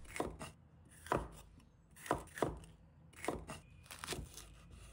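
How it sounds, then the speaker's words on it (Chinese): Knife chopping mustard green stems into small pieces on a board, a series of crisp, close cuts landing in loose bursts of two or three, each with a short crunchy snap, with no talk. "然后把梗切成小块，也不要切得太小"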